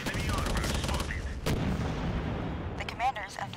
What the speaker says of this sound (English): Somebody just sniping me. Yeah, they're just been taking pot shots at all of us.